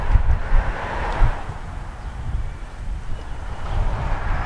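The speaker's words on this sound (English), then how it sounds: "it's a bit windy here" Steady outdoor wind buffets the microphone with low rumbling gusts throughout, with no voices.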